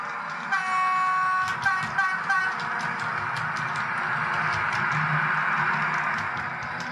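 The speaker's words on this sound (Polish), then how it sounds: "musimy poczekać, aż przejdzie sekwencja uruchomienia silnika, bo inaczej lokomotywa nie ruszy" A Piko H0-scale DCC model locomotive's electronic start-up sequence: a steady engine drone with a brief horn-like tone and a series of faint clicks, no voices.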